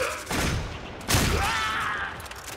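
Rapid automatic fire from the Boltor gun in the sci-fi shooter Warframe, a dense continuous burst that restarts with a louder surge midway, close and steady without pause.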